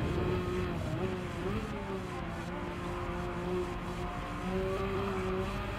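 A race car fitted with a racing exhaust roars steadily in Gran Turismo 7, its engine note rising and falling through gear changes with a strong, even drone and brief dips as it shifts, with no talking over it.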